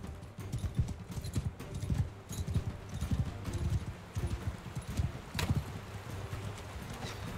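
Cavalry horses galloping in the video game Mount and Blade II: Bannerlord, a rolling mass of overlapping hoofbeats thudding close and loud, with scattered battle clatter and no talking.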